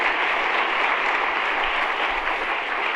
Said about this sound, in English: Clap in the live chat!